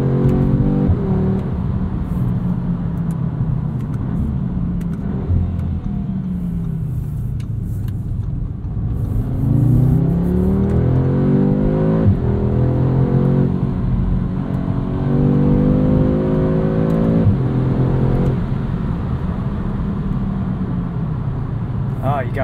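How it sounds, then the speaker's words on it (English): A 2022 Audi S3 with a dual-clutch gearbox accelerates, its engine rumbling and rising through revs in close, steady surges, with someone talking over it throughout. "This S3 is really good. I love the way it sounds."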